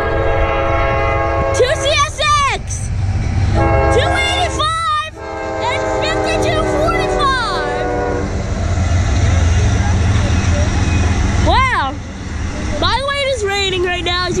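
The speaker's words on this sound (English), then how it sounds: "Here comes a CSX train." A CSX freight train pulled by two engines rolls past in the rain, its horn sounding in several loud blasts over a steady rumble, with people talking nearby.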